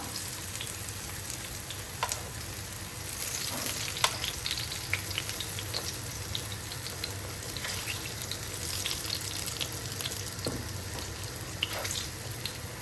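Moong dal puri frying in ghee gives a steady, close sizzle with fine crackling pops throughout, no talk over it.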